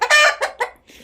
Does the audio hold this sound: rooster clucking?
yes